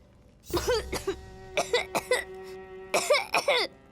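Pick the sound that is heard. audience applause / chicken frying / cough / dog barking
cough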